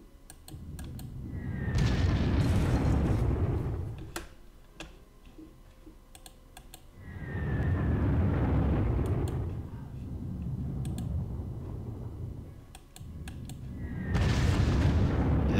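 Bombing explosions in the Operation Sealion video game arrive as three broad, rumbling blasts spaced several seconds apart, mixed with steady keyboard typing clicks nearby.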